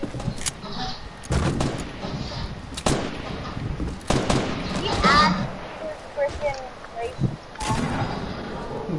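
Gunshots in the Fortnite video game crack out in scattered single shots and short bursts, loud and punchy, with voices talking over and between them.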